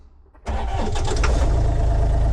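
A diesel mini excavator engine cranks and fires up after its glow plugs, catching suddenly and settling into a loud, steady, rumbling idle close by.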